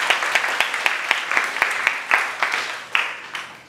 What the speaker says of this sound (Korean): 맥락은 없지만 고릴라한테 박수 한번 쳐주실래요?